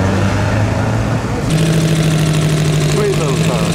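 A small classic Italian Stanguellini race car at the Mille Miglia idles loudly and close, its engine note steady with a rougher, busier burble from midway on, amid crowd noise and talk.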